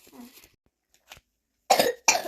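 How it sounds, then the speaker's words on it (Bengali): Someone with a cold coughs, a faint rough sound at first, then two loud, harsh coughs close by in quick succession. "কাশি হয়েছে এত ঠান্ডা লেগেছে"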